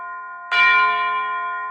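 Temple bells in a centuries-old Shiv temple deep in a silent forest ring on their own: one fresh, bright strike swells over the long, shimmering tones of an earlier ring and slowly fades, alone and resonant.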